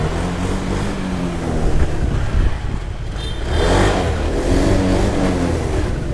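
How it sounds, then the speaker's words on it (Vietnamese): A warmed-up motorbike engine idles and revs steadily up close in a Hanoi motorcycle shop, with a slight ticking noise from the top end audible in the continuous mechanical drone. "con này nóng máy lên thì nó hơi kêu đầu một chút"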